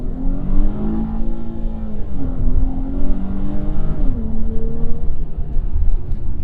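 A 2022 Dodge Challenger GT engine pulls up through the revs, its tone climbing in steady sweeps with a drop at a gear change, loud and close from inside the car.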